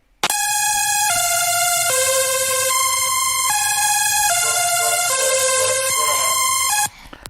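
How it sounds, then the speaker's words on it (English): Bright synth lead from the basic lead preset in Electra 2, squashed with OTT compression, playing a sustained stepwise melody of held notes with rich stacked harmonics, loud and alone for about seven seconds. "on top of all your chords, you have this beautiful lead, and it's literally a Electra X preset"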